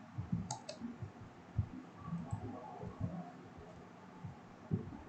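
A Windows computer's mouse gives a few soft quick clicks and its keyboard is typed on lightly, faint against room noise and low rustling.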